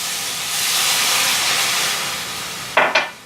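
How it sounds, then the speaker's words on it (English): Steam hisses loudly and steadily from a very hot pan as liquid is poured in to deglaze it, the broad sizzle swelling then easing, followed by a couple of brief sharp clatters near the end. "I'm going to deglaze. Get your hand out of the way of the steam."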